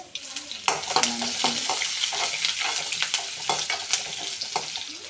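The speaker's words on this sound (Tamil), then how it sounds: "நல்லா வதக்கி விட்டுக்கலாம்" Onion, dried red chilli and curry leaves with mustard seeds sautéing in oil in a pan, a close continuous sizzle with rhythmic spatula scrapes and stirring clinks.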